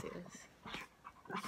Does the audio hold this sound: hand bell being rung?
no